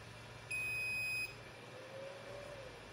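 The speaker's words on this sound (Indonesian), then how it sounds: "Yang pertama kali saya nyalakan inverternya." A pure sine wave 500 W, 220 V DC-to-AC power inverter gives a short, fairly loud high-pitched electronic beep of under a second as it switches on, followed by a faint tone and low background hum.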